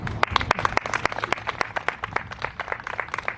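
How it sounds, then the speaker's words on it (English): Audience applause at a Heartland Realtor Organization installation ceremony for newly installed officers and directors, with sparse, individually distinct claps from a modest crowd, fairly close and steady for a few seconds. "You may applaud."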